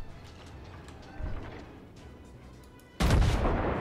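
Heavy battleship guns fire in the naval game World of Warships, a distant rumble early on followed by a loud, deep booming salvo in the final second, with no one speaking.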